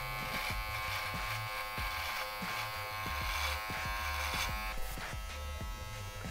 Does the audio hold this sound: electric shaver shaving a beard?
yes